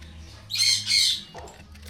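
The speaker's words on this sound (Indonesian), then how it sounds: "Ini anakan lovebird lutino mata merah." Red-eyed lutino lovebird chick giving two loud, harsh squawks in quick succession while being handled, followed by a softer call, close to the listener.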